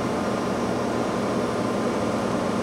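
Spindle of an Okamoto 12 by 24 inch high-precision CNC profile surface grinder running steadily at about 1800 RPM, a smooth, quiet, continuous hum and whir with no voices.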